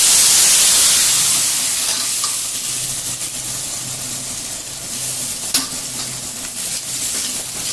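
Spice paste frying and sizzling in hot oil for a crab curry, with a steady hiss and occasional stirring scrapes. No one speaks.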